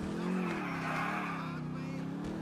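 A stolen car in the GTA IV video game drives and skids, a continuous engine drone with wavering tire squeal throughout, moderately loud and with no talk.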